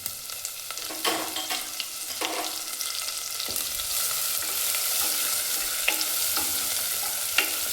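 Crushed garlic and cumin seeds fry in hot oil and ghee, making a steady close sizzle that grows slightly louder, with occasional light scrapes of a stirring spoon.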